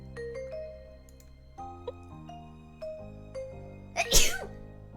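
A single sharp sneeze bursts out near the end over quiet background music with soft chime-like tones.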